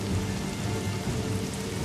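Heavy rain pours down in a steady, dense hiss of drops striking surfaces, loud and even throughout, with no voices.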